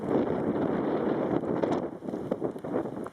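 Gusty wind on the Siete Picos summit above Cercedilla near Madrid buffets the microphone in uneven surges and rumbles that rise and fall throughout, with no one speaking.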